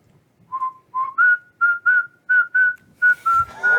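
Creatures whistle as they move closer: a series of about nine clear, steady whistled tones in a rising, evenly spaced rhythm, fairly loud against near silence, ending with a brief rustle.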